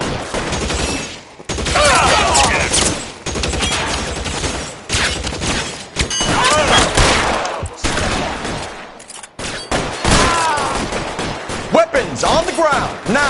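Gunfire in the video game L.A. Noire comes in loud bursts of shots broken by short gaps, mixed with shouting voices and game sounds, the firing close and harsh throughout.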